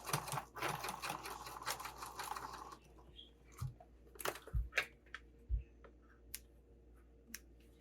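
Sewing machine stitching fabric at close range: a dense run of rapid mechanical needle clatter that stops, followed by scattered clicks and soft thumps as the fabric is adjusted.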